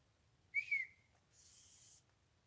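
A sharp whistle rings out in the woods during a live bigfoot search in Colorado, a single quick note that rises then falls over about half a second, followed by a softer hissy burst, with no one speaking.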